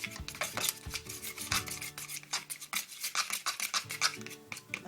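Yellow and green screen printing ink being stirred and mixed, a steady run of quick scraping, rubbing strokes with light clinks, close and fairly loud with no talk.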